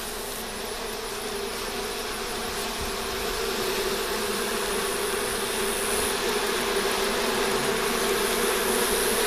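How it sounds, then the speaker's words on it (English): Honey bees rob around a honey extractor, making a dense, continuous buzzing swarm drone that is close and steady and grows slightly louder partway through, with no talk. "let's see how many bees are robbing out to here"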